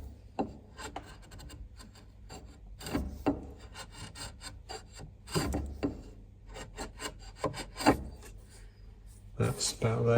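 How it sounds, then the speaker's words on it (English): Hand chisel paring into flat-bottomed wood, giving a series of scraping, rasping strokes in uneven bursts, fairly close and moderately loud, with some quieter rubbing between strokes. "And then I'm just going to come in with the chisel."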